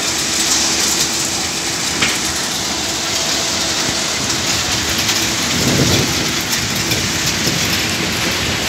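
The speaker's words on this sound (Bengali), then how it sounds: "এখান দিয়ে এক সাইজের পাথর" Granite stones pour down at the Maddhapara stone mine in Parbatipur, Dinajpur, making a loud, continuous rushing clatter with a heavier rumbling surge near the middle.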